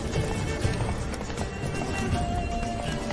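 A horse gallops in The Witcher 3, its hooves drumming in a fast, steady rhythm that stays loud and close for the whole stretch.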